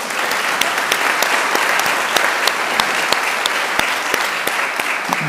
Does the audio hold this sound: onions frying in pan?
no